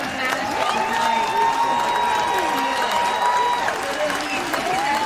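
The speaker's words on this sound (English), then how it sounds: "Looking at the crowd, all the girls out there celebrating, supporting her" A hometown crowd celebrates Olympic gold medalist Megan Oldham with sustained applause and cheering, a dense, continuous roar of clapping and shouts heard from within the gathering, with a few whistles cutting through.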